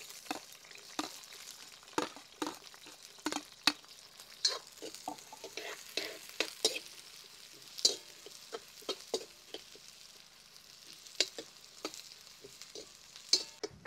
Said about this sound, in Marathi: त्यात आपण आता कांदा चांगला फ्राय करून घेऊया